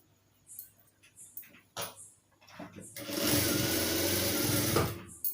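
A sewing machine stitches blouse fabric, starting with a few short clicks and stops, then a steady whirring run of stitches for about two seconds before it halts.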